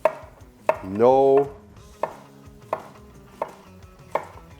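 A Ninja NeverDull knife slices through cucumber on a cutting board in sharp, evenly spaced chops, close and clear, with a brief spoken word between the first cuts.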